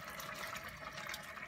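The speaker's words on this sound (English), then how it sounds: "now you're ready to put the almond milk in?" Almond milk pours into a pot while Greek rice pudding is made, a steady, close, soft gushing of liquid that runs evenly throughout.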